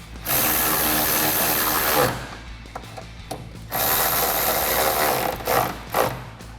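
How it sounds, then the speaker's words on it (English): Ratchet with an 8mm socket tightening bolts on a 2021-2022 Ford F-150 replacement grille: loud, close, rapid continuous clicking runs in two long stretches broken by short pauses and a few single clicks. "Now I'll tighten those down with an 8mm socket."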